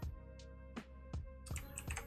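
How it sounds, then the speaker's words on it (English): Computer keyboard keys pressed as drawing shortcuts during a digital art session: several crisp clicks in an irregular rhythm, close and fairly quiet, with no talking. "I hit C on my keyboard for the shortcut"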